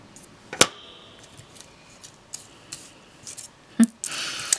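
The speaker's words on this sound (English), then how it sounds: "I'm just going to snip it off" Scissors snip off a piece of die-cut paper in a quiet craft setting, with one sharp close cut followed by faint rustles and small handling clicks, and a brief louder clip and rustle near the end.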